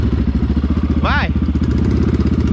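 A motorcycle engine chugs with a fast, steady pulsing rhythm close by on a dirt trail, while a person talks loudly over it partway through.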